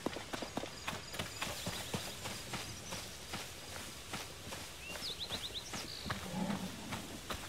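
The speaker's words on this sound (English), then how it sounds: "You better not have scared the horses." Horses in the Zelda: Tears of the Kingdom video game, their hooves clip-clopping in a quick, uneven walking rhythm, fairly faint, with a brief high whinny-like call partway through.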